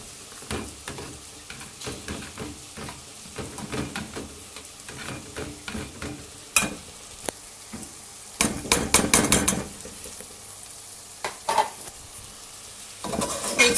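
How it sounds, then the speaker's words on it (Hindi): Okra (bhindi) stir-fried in a pot, with a soft sizzle under repeated scraping and clinking of a spoon against the metal, some sharper knocks now and then. "तो इसको अच्छी तरह भून लेंगे।"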